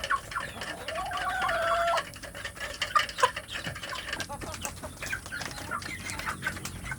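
Free-range village chicks and chickens being fed, clucking and cheeping in a busy cluster close by, with pecking and scattered wing flaps and a brief raised call near the start.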